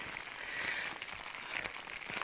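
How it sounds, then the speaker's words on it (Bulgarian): Steady rain falling outdoors on a wet muddy trail near a chapel, an even hiss that stays constant throughout the short stretch, with no voices. "Дъжда продължава да пере."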